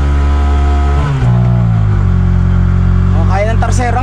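A tuktuk engine revs hard in second gear while climbing a steep hill, holding a loud, strained drone throughout with pitch shifts as it labours. A voice comes in near the end over the engine.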